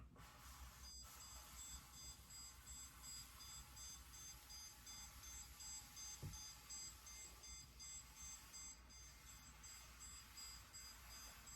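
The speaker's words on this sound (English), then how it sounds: "We heard a beeping sound, and it beeped all the way along its path." A stud finder in stud scan mode, run along a wall, gives a steady high electronic beeping tone unbroken across the whole stretch, fairly faint over a low background hum, with one brief knock partway through.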